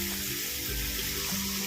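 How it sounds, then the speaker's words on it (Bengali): Hot water goes into a pan of egg curry cooking with tomato paste and spices, making a steady rushing, sizzling splash that stays dense and close with no speech. "এবার দিয়ে দেবো গরম জল।"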